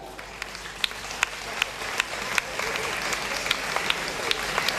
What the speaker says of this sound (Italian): Vi prego di accogliere con un applauso la palermitana scenica